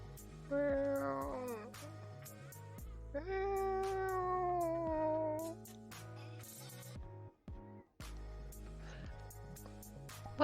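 A man imitates a cat with drawn-out, wavering meows in a couple of long, close, loud voiced calls, followed by shorter, choppier noises and brief pauses.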